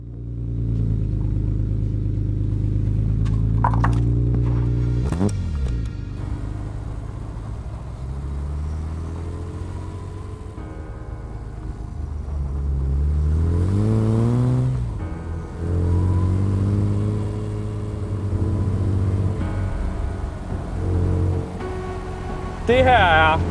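A small modified car drives along with its engine revving repeatedly, loud rising and falling drones heard from inside the cabin, with someone talking over the engine at times.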